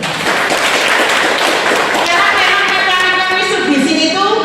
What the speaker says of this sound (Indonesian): tepuk tangan untuk Mitsubishi dulu